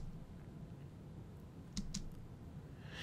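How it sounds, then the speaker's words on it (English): Two quick, crisp clicks from a computer keyboard key being pressed, close and fairly clear over a quiet room hum. "hit F9 on your keyboard to turn them"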